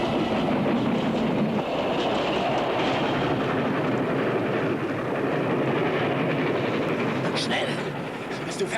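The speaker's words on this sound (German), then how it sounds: "Der Zug muss jeden Moment kommen!" A train rolls in with a steady, loud rumble and rhythmic clatter of railcars, plus brief high squeals near the end as it slows, under the sound of people talking.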